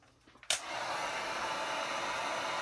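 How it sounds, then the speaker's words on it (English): A heat gun clicks on and blows a steady, loud, broadband rush of hot air to warm a vinyl skin graphic wrap on a Losi 5ive-T RC truck body, continuing unbroken after the switch-on. "So now let's get our trusty heat gun here."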